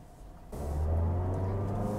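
A 2019 Mazda CX-3 small car accelerating at full throttle, its engine rising abruptly into a steady, loud droning rumble heard from inside the cabin, with no talk.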